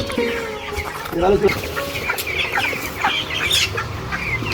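Several poultry farm chickens cluck and chatter close by in extreme heat, overlapping calls rising and falling throughout.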